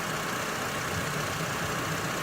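A newly replaced engine in a 2006 Honda Civic runs at a steady idle, a continuous even hum with no talk over it.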